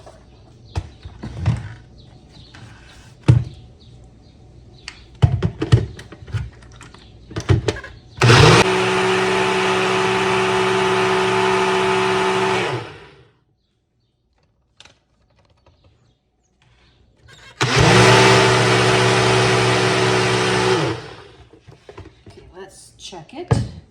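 A blender whirs through eggs, cheese and bacon in two loud, steady bursts of several seconds each, separated by a pause, with clattering handling noises and a voice talking before and between the runs.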